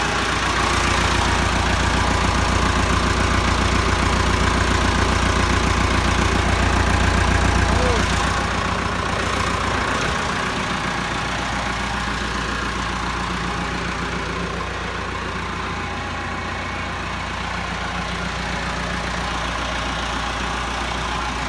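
Massey Ferguson 375 tractor diesel engine idling just after starting, a steady loud low rumble that eases slightly midway and then settles into an even idle, with no speech over it.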